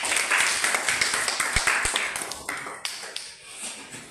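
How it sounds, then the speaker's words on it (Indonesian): Classroom students clap for a classmate in a short burst of close, uneven hand claps that thins out and fades toward the end, with no talking over it. "tepuk tangan untuk si Lamni"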